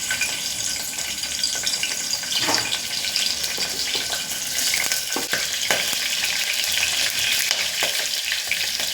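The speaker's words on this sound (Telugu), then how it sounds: "ఇప్పుడు ఇందులో పచ్చిమిరపకాయలు ఈనెల్లో కట్ చేసుకున్న పచ్చిమిరపకాయలు వేస్తున్నానండి." Chopped green chilies frying in hot oil for a mutton curry, a loud continuous sizzle and crackle up close, with occasional stirring clicks and no talk.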